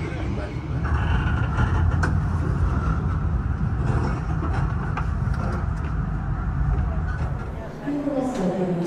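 The Blambangan Express, an economy-class passenger train, rolls into Jember station with a heavy low rumble and clatter heard from inside the carriage, easing near the end as a voice speaks.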